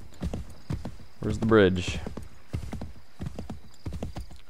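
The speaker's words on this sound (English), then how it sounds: "I will get off this horse and start running if I can't find a bridge." A horse gallops in Assassin's Creed 3 with rapid, rhythmic hoofbeats in steady bursts, broken by a loud whinny near the middle; someone speaks briefly over it.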